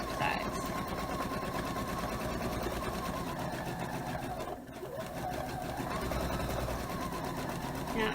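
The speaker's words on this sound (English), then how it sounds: "And then we're just going to sew all the way around the 4 sides." A sewing machine stitches steadily around the four sides of a memory pillow, its rapid even needle rhythm running almost continuously with one brief pause in the middle.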